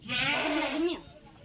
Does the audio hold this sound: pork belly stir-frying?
no